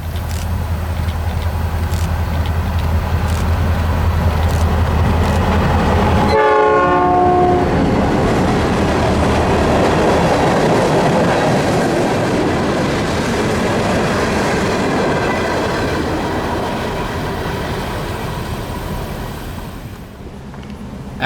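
Illinois Central GP40R and GP38-2 locomotives pass close by: a loud horn blast cuts in, followed by a long, steady roar of engines and rolling wheels on rails that slowly fades toward the end.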